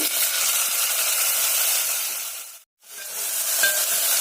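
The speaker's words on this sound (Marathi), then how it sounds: "आपण यामध्ये टोमॅटो खूप छान शिजवून घ्यायचा आहे तेलामध्ये खूप छान फ्राय झालेला आहे" Tomato pieces frying in hot oil for methi dal fry give a steady, close, broadband sizzle that cuts out abruptly for a moment, then returns just as loud.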